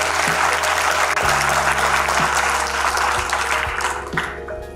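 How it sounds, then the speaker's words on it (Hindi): An audience at a speech event claps for parents in a dense, loud burst of applause that starts at once and continues steadily, easing slightly toward the end. "तो आप दूसरी बार अपने पेरेंट्स के लिए तालियां बजाएं।"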